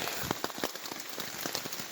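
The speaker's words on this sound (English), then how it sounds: "I don't know if you can hear the rain, but it's raining pretty hard" Heavy morning rain at a campsite pours steadily onto a surface, a dense, constant hiss broken by scattered louder drops and patters, fairly faint and even, with no voices.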